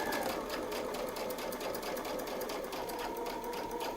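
A sewing machine runs steadily, stitching a Westalee Spin-E-Fex number 5 template design, with a continuous close whirring hum and fast even needle rhythm throughout, no talk over it.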